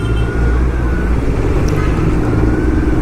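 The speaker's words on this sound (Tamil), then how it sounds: "நம்ம தான் ஸ்டாக் எக்ஸாஸ்ட்லேயே ஓட்டுறோமே, அதில் அவ்வளோ சவுண்டு வராதில்ல. இருந்தாலும் ஒரு ஆசை தான் த்ராட்டில் பண்ணி பார்க்கலாம்" A Kawasaki Z900 motorcycle with its stock exhaust runs loud and close, a steady deep engine roar throughout with no clear speech.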